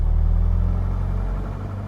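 A Diamond DA40 light aircraft's piston engine drones with a deep, steady, loud rumble while taxiing, holding a constant note close by.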